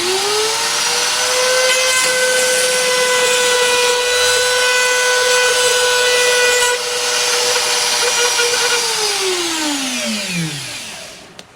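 A KMG guitar binding machine cuts a binding channel with a loud, steady high-pitched motor whine and cutter noise that holds for about ten seconds, then spins down at the end.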